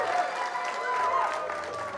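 Audience applause and cheering in a studio setting, a dense steady wash of clapping with some whoops and crowd noise lasting throughout, sustained at even volume.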